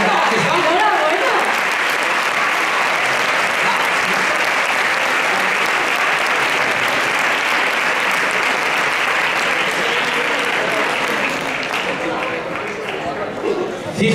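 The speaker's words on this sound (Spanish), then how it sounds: "Un aplauso" An audience applauds continuously at the 2024 Alcorcón sports awards gala, a dense, loud wash of clapping that holds steady and fades slightly near the end, with voices faintly underneath.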